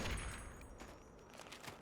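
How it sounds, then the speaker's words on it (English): Giant death turrets firing in the video game Fallout 3, a dense, rumbling barrage of distant gunfire and booms that fades slightly over the brief moment, with no talking. "Look at these giant death turrets."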